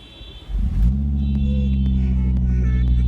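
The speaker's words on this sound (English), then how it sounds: "So first startup after the tune." A stage 2 tuned Volvo V70R engine cranks and fires up for its first start after the tune, then settles into a steady, deep, rumbling idle close by, with a faint whine above it.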